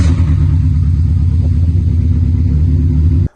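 An old car engine, restarted after nearly three years sitting and running roughly, rumbles loud and close with a low uneven throb before cutting off abruptly at the end.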